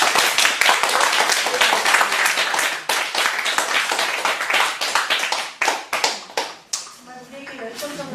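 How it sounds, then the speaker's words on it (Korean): An audience applauds after a lecture with loud, dense clapping that thins into scattered claps near the end, while a voice speaks over it. "우리에게 열정적으로 강의해주신 박사님에게 다시 한번 뜨겁게 박수를"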